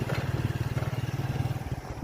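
Motorcycle ride along the Padma riverbank in Rajshahi in the morning, with a steady, close engine drone pulsing rhythmically throughout and no talk.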